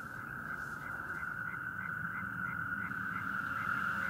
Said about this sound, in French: on a un fond sonore avec des crapauds calamites qui doivent être à 200 ou 300 mètres d'ici